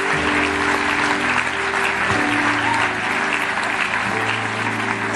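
A church congregation breaks into loud, sustained applause that fills the room evenly from start to finish, dense and continuous with no talk over it.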